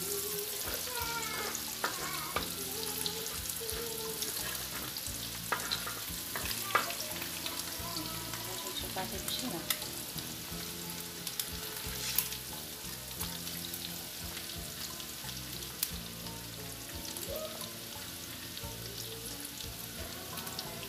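Fried egg sizzles and gets stirred in a hot pan for feijão tropeiro, with a steady, loud frying crackle and repeated scraping stir strokes throughout and no talking.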